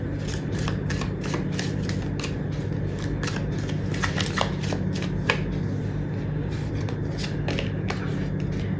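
Tarot cards being shuffled up close, a continuous run of crisp riffling snaps and slides over a low steady background hum.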